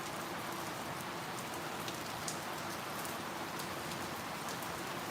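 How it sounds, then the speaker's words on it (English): Steady rain falling, a dense even hiss with scattered drops pattering on a surface, continuous throughout with no voices. "You hear the rain?"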